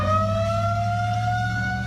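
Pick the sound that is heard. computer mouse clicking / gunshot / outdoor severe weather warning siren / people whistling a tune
outdoor severe weather warning siren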